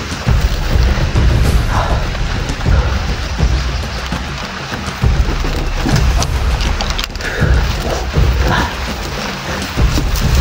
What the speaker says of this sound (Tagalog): Lumalakas ng ulan.